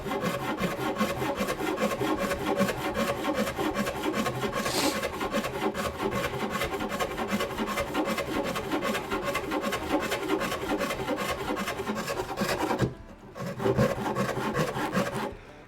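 Coarse hand rasp filing a wooden guitar neck being carved by hand, with steady, continuous rhythmic rasping strokes close up, a brief pause near the end before the scraping resumes.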